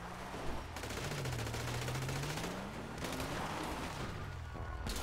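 A Gusenberg drum-fed machine gun in GTA V fires long rapid bursts, a dense rattling roar broken by brief pauses, with a sliding engine-like whine underneath and no talking.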